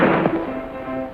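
A single sharp gunshot fired as a warning in a colorized TV western, loud and close at the start, ringing out over a lingering tail with faint background music.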